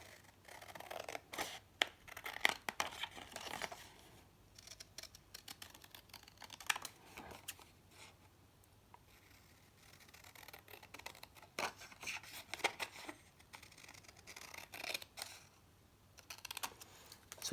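Paper card pieces being cut with scissors or a trimmer, a quiet series of short crisp snips and rustles in bursts with pauses between.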